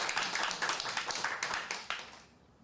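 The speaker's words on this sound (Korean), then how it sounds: "이 시간 다 함께 박수를 보내겠습니다." Church congregation clapping together during a Korean worship service, a run of fairly close, quick claps that grows uneven before tapering off toward the end.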